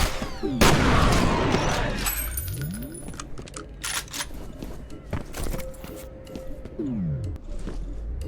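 A loud grenade explosion in the game F.E.A.R.: Extraction Point bursts near the start, followed by lingering rumble, scattered shots and clattering effects in a busy soundscape.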